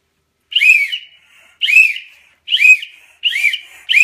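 A person whistles a series of four to five short rising-falling notes, each about half a second long and separated by brief pauses, clear and close in a quiet setting.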